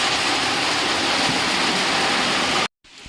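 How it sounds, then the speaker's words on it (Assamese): Heavy rain pours down in a dense, steady hiss that stays loud and even for nearly three seconds before cutting off abruptly into near silence. "পূৰা বৰষুণ দিছে, বৰষুণ দিছে।"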